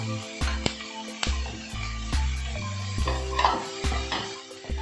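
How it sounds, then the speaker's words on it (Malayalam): Green chillies go into onions frying in a pan for potato capsicum masala, with a spoon scraping and clinking against the pan in repeated strokes over a soft sizzle. "ഈ സമയത്ത് നമുക്കിതിലേക്ക് പച്ചമുളക് ഇട്ട് കൊടുക്കാം"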